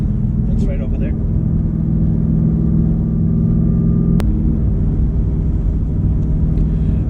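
Steady low engine and road rumble from inside a moving car following another vehicle on the road, constant and close, with a brief high click partway through.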